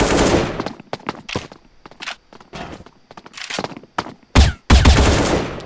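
Rapid bursts of gunfire in the mobile shooter game Bullet Angel, played in ghost mode: loud, close automatic volleys broken by short gaps, with a heavier double blast near the end.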